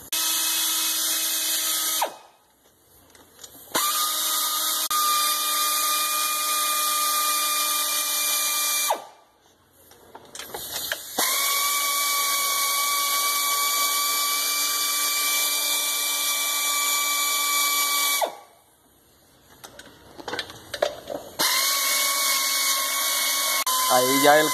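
A noisy pneumatic air tool driven by a compressor, working on an oil cooler job, runs loud and close in three long sustained bursts with brief pauses between, a steady high whine throughout and no talk over it.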